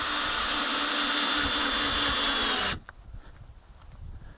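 Drill driving 1 5/8 inch screws into a wooden hydroponic growing box, a loud continuous whir lasting under three seconds that stops abruptly, leaving quiet room noise.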